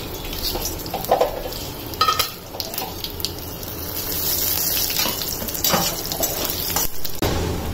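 Six cloves, four small cardamom pods and whole cumin going into hot oil in a home kitchen, giving a steady bubbling sizzle with occasional clinks of a utensil against the pan and stirring noises.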